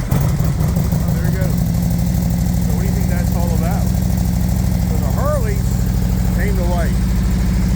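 A Harley-Davidson Road Glide motorcycle fitted with a Crowworks exhaust idles with a loud, steady, low rumble throughout, while someone talks briefly over it.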